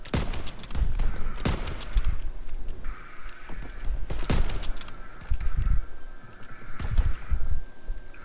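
Gunfire in the World War II shooter Call of Duty WW2, with sharp repeated shots and bursts crackling throughout, loud and close, over a steady game background.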